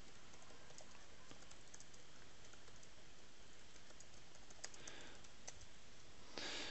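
Typing on a computer keyboard gives a quiet, irregular patter of soft key clicks, close and faint, with no voices.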